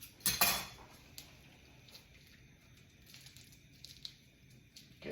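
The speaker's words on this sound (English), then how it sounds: "we are gonna cut open the beef here" A knife slices open a plastic-wrapped pound of ground beef in a home kitchen for sloppy joes, giving a brief, sharp crinkling rip near the start, then faint clinks and rustles.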